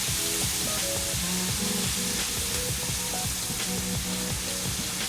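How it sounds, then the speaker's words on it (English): Scallops with garlic fry in a hot pan with a dense, continuous sizzle, and a rhythmic pattern of tonal scraping and knocking as they are tossed, close and loud with no talking. "now we're gonna add in our scallops and toss those around so we get the garlic all in there"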